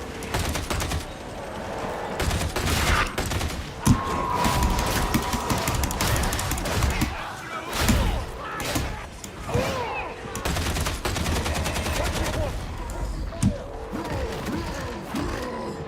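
Dense gunfire fills a chaotic Darktide battle, rapid bursts and volleys from several weapons overlapping steadily with mechanical clatter and some voices mixed in.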